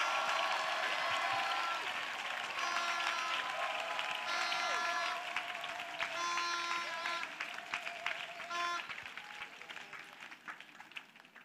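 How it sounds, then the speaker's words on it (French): A church gathering's audience claps for Jesus in a sustained wash of applause, mixed with music and voices, gradually thinning toward the end. "Clap offering to Jesus"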